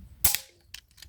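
A gun fires once, a sharp loud crack with a brief tail, followed by a couple of fainter clicks or knocks in a quiet setting.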